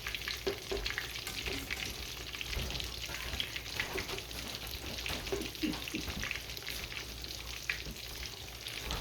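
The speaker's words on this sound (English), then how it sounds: "Ooh, look at those. They're frying." Green tomatoes sizzle and crackle steadily in hot oil, a dense spattering hiss that continues throughout without any voices.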